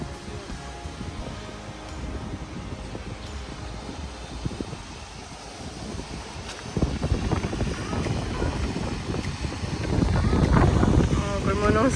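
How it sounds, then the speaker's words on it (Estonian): Wind buffeting the microphone outdoors on a day out in Spain, a steady broadband rush that swells louder after the midpoint and again near the end, with voices talking under it. "Kui mõnus tuul."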